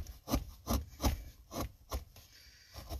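Hand chisel cutting wood in a relief carving, a close series of about eight short rasping strokes in an uneven rhythm, fading near the end, with no speech.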